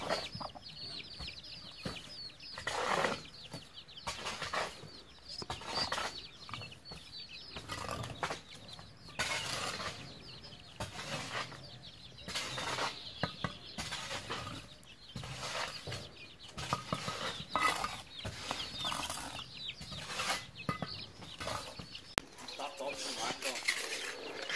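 A hen with a large brood of chicks clucks steadily in a backyard, with soft chick peeping throughout and occasional faint voices in the background.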